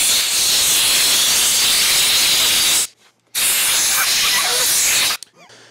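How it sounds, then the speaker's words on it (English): Compressed air from a nozzle blasts loudly into a Yamaha R7 motorcycle grip to break up and blow out the glue, with a long continuous hiss that cuts off briefly, resumes and then stops. "as long as you keep moving the nozzle around, breaking up all the glue with inside here, it'll come out just fine"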